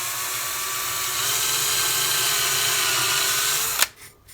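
A power drill bores a hole in a workpiece clamped in a vise, a loud, steady whining drone held for nearly four seconds before it cuts off abruptly with a short clatter.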